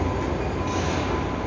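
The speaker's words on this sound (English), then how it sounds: "So that train just arrived also." A BART train rumbles steadily with broadband rolling noise and a faint high whine, pulling into the San Francisco Airport station.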